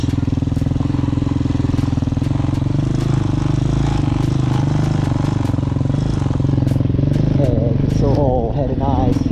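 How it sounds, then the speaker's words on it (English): A Hawk motorcycle ridden on dirt hums loudly and steadily under an easy, even throttle without clutch use, its engine drone dominating throughout as a person speaks over it near the end. "Try to maintain a nice easy throttle without using a clutch."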